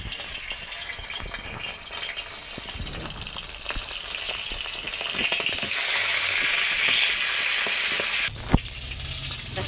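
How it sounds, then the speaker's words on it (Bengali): Tulo sardine fish frying in hot oil, a close and loud crackling sizzle that swells into a denser hiss partway through, with a sharp clink near the end. "তেলটা আমার গরম হয়ে গেছে মাছটা আমি দিয়ে দেবো"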